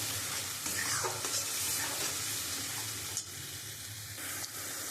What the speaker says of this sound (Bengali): দিয়ে এবার মশলাটা আমি খুব সুন্দর করে কষিয়ে নেবো